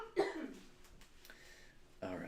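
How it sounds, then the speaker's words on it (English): A sick person coughs once, close and clear, then breathes and makes small throat noises before a voice starts speaking at the end. "I got to go cough a bunch."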